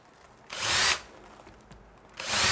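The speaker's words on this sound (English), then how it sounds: "we do that by drilling these little 3/16" masonry holes" A power drill bores small 3/16-inch masonry holes into loose plaster over wood lath, with two loud bursts of whining drilling separated by a quieter pause, close and alone.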